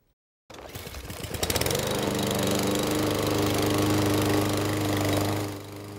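A lawn mower engine starts abruptly and runs loud and steady while mowing a yard, a constant rough drone with a throbbing low hum that eases slightly at the end.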